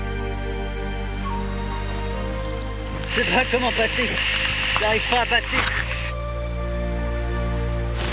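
Heavy rain pours steadily in the Amazon jungle, dense and close, with a brief burst of louder hissing in the middle while someone speaks French breathlessly over it.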